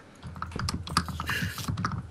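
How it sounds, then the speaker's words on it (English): Rapid computer keyboard typing during a Minecraft-style building game, a steady run of close, crisp key clicks with slightly uneven rhythm, heard alone for about two seconds. "Sounds like someone's typing their build."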